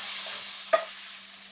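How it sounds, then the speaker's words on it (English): Vegetables sauté in oil in a pan for congri, with a steady sizzle running throughout and a single short scrape of stirring near the middle. "So I'm sauteing the vegetables right now."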